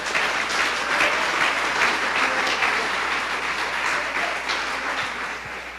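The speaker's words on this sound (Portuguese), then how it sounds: "Dê uma salva de palmas ao Senhor" A church congregation at Igreja de Nova Vida do Catete gives a sustained round of applause, dense and fairly loud, steady throughout with a slight easing near the end.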